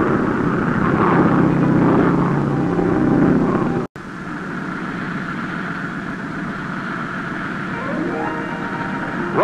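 A 1950s TWA propeller airliner at Frankfurt's Rhein-Main Airport drones steadily with a loud engine hum, briefly cut off before resuming, under someone narrating.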